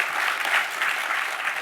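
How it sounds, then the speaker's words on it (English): An audience at a leadership and innovation summit showcase gives presenters a final round of applause, a dense, steady burst of clapping heard throughout. "give me one final round of applause for all of our presenters during this showcase."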